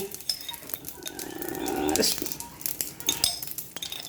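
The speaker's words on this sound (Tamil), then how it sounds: "கடுகு கொஞ்சம் பொட்டட்டும்." Mustard seeds splutter in hot oil for a dried fish curry, with quick irregular crackling pops over a low hiss that swells briefly midway.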